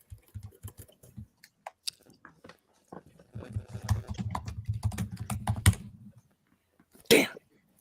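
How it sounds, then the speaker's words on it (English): Fast typing on computer keyboards, with scattered quiet key clicks at first, then a dense, rapid stretch of clattering keystrokes that stops abruptly, followed by one last louder burst. "There was some fast typing there."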